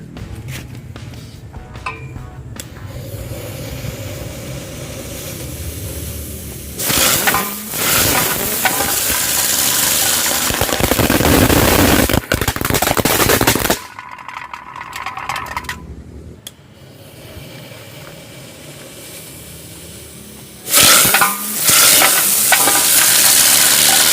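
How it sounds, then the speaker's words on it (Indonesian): A spinning lotus-flower firecracker sizzles and fizzes loudly for several seconds, falls quiet, then a second burst of hissing flares up near the end. "ini kita nyalakan mercon bunga teratai"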